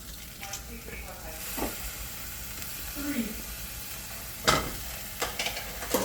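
Garlic sizzles in hot oil in a pan alongside onions, a steady close frying hiss with light stirring clatter and a few sharp spikes.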